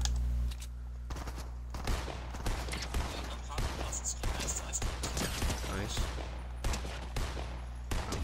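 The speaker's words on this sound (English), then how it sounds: "I missed all those shots" Rapid bursts of gunfire crackle in Fortnite, dense strings of shots fired in quick succession, loud and close, with a voice faintly underneath.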